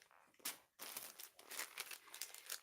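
Crinkly cream-colored material being handled up close, producing faint crumpling and rustling bursts that come and go in short uneven stretches.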